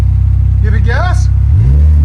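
A 2025 RAM RHO pickup with a 3.0L Hurricane inline-six and Borla ProXS double-muffler exhaust idles loudly up close, then revs up with a rising engine note; a voice speaks briefly over the rumble.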